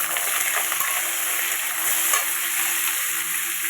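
Potatoes frying in a pan give a steady, close, loud sizzle with faint stirring scrapes, and no voices.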